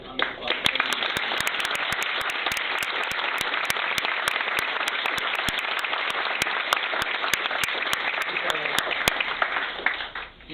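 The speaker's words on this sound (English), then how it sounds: "Dunbar another round of applause" A gala audience in Austin gives Mr. Dunbar a sustained round of applause, an even, continuous wash of clapping with sharp individual claps standing out throughout, before it stops at the end.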